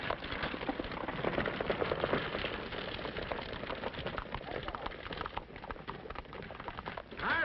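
A horse's hooves clip-clop in a steady rhythm, with someone talking over the trotting in a gritty, low-fidelity recording.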